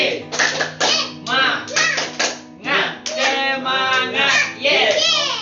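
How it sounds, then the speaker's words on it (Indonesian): A primary school class does a rhythmic spirit clap, bursts of hand claps in quick patterned groups mixed with children chanting loudly together, the voices dominating between clap runs. "Tepuk semangat."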